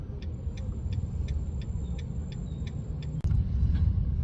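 Road traffic in Aizawl, with a steady low rumble of car and bus engines heard from inside a vehicle, faint rhythmic ticking throughout and a brief thump partway through, no voices.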